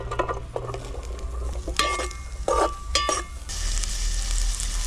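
Chopped onions and green chillies go into a pan of hot oil and sizzle loudly, with scraping stirs and clinks from a spoon against the pan as the frying continues steadily.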